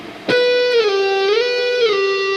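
An electric guitar picks one note and then slides it down and up through a slow phrase from the first solo of a song, sustained, loud and alone.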